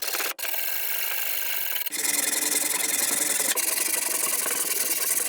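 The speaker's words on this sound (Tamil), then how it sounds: "இப்போ இந்த உப்புத்தாளை வச்சு இதில் நீண்டிட்டு இருக்க பகுதிகளை தேய்ச்சி சாஃப்ட் ஆக்கிடுங்க." Sandpaper wrapped around a block rubbing over rough wooden parts of a homemade wheelchair, a steady dry rasping scrape that runs almost without pause, loud and close, with no talking.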